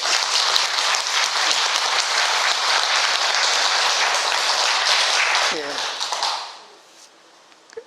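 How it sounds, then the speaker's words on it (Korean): A Saturday class of Buddhist devotees gives a round of sustained, dense clapping for about six seconds before it tapers off quickly, and a voice comes in near the end. "우리 토요반 우리 불자님들을 위해서 박수 한번"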